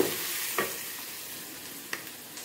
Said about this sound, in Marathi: कांद्यालाही मध्ये मध्ये हलवत राहायचं, नंतर तो जळून जाईल.